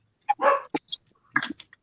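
A house dog barking indoors, a few short, close barks and yelps in an irregular burst, fairly loud against a quiet room.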